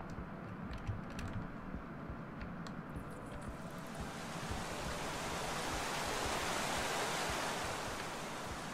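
Waterfall in the video game Minecraft: Story Mode, a broad rushing wash that swells as it comes closer, following a few seconds of faint clicking and tapping.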